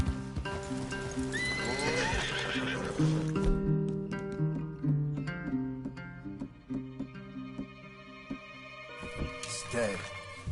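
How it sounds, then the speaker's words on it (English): Horses in Red Dead Redemption 2 whinny and neigh clearly near the start, followed by clip-clopping hooves that come and go over the game's outdoor ambience. "Leave the horses in the trees there."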